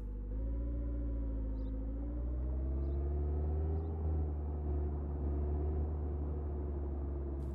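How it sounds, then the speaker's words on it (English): A police car engine idles steadily in the video game Contraband Police, a low continuous hum and rumble with slight swells and no talking over it. "Start the engine"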